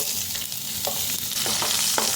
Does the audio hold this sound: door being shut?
no